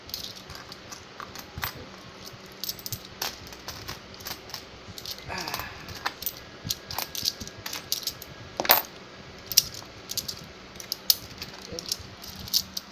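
Coins clink and drop one after another into a servo-based coin changer, sharp metallic ticks scattered irregularly at moderate volume with faint background murmur.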